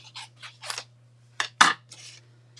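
Scissors snip through a piece of craft material to cut it in half, a few quick, close, crisp cuts with brief pauses between them over a low steady hum.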